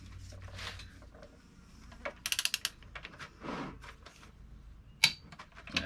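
A torque wrench clicks and ratchets while tightening the oil gasket bolts on an engine. A quick cluster of sharp clicks is followed later by one more distinct click, with quiet handling noises in between.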